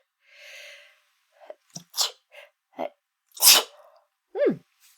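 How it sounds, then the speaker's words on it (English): A single close, loud sneeze bursts out after a few sharp intakes of breath and sniffling sounds, with a brief vocal squeak at the end. "I think I'm going to sneeze again"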